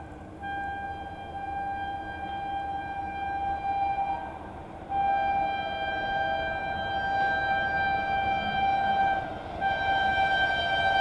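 The Purushottam Express approaches at speed with a long sustained multi-tone horn blast, sounding in repeated stretches over a steady rolling rumble of the train.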